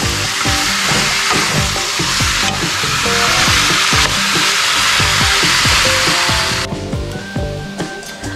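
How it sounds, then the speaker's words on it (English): Pork for Bicol Express sears and renders its fat in a pan, a loud, dense, close sizzle and spatter with busy popping that runs steadily, then thins abruptly near the end. "I'm just gonna sear this for probably about 10 minutes so it gets rendered the fat a little bit"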